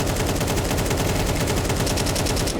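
An automatic rifle sprays a sustained burst of rapid gunfire in Counter-Strike during an ESL Challenger League esports match, loud and continuous, with closely spaced shots throughout.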